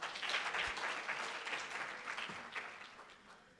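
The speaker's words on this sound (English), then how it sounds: "Another round of applause for them." An audience at a student leaders' panel discussion in Botswana gives a round of applause, a dense wash of clapping that stays fairly steady, then gradually thins and fades.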